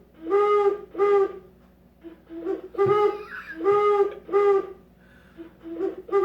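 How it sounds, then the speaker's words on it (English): A bird clock chimes noon with a hooting owl call, a series of repeated whistled hoots in uneven bursts, fairly loud and close in an indoor room, with no talk over it. "It's noon. That's my clock, my bird clock."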